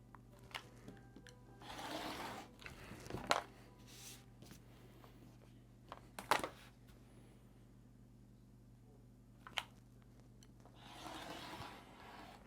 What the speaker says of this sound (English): We got 2 more to cut here.